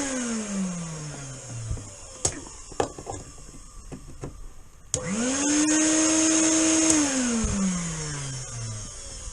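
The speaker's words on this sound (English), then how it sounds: "I can use this now to hoover all this dust and that out." A 1200-watt VAX vacuum cleaner switches on mid-clip and runs with a loud, steady whine that rises then falls, after a few clunks and knocks while working inside a VW T2 camper van.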